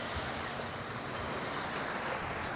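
Sea waves wash steadily along a shore at night, a dense continuous surf roar mixed with wind buffeting the microphone, with no voices.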